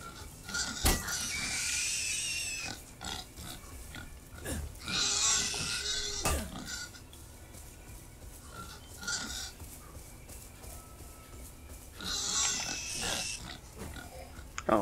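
Squealing, grunting pig sounds in Far Cry 5 in several loud bursts, separated by quieter stretches of low background noise.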